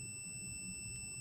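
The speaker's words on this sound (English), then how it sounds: "therefore you hear the continuity, I mean the beep sound." A steady, continuous beep from a digital multimeter testing continuity through a copper wire holds without a break, fairly quiet over faint background hum.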